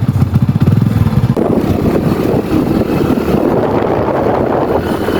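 A Hero Splendor motorcycle carrying a bundle of grass on the back, heard close while riding home in cold weather, with a steady engine drone and wind buffeting throughout; a rapid low putter is clearest at the start.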